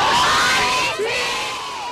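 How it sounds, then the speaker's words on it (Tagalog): Young people and church members shout together at an anti-RH Bill prayer rally, a loud continuous crowd roar with rising whoops and yells, sustained through the moment. "Ganito rin ang sigawan ng mga kabataan at miyembro ng Lingayen Dagupan Archdiocese"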